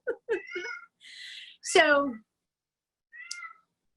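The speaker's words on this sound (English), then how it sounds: "I have an angry cat" An angry house cat meows near a microphone: a long, drawn-out, strained meow, then a short higher cry. Brief bursts of a person's talk come before and between the cries.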